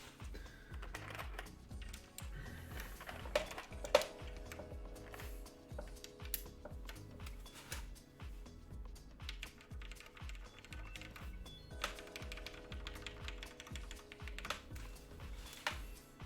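Someone types steadily on a hiney TKL One prototype mechanical keyboard, producing dense, irregular clacking keystrokes up close with brief pauses between flurries.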